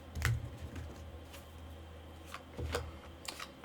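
Tarot cards are cut and shuffled in two quick, soft riffling bursts set apart by a pause, with faint taps and flicks between them in a quiet room.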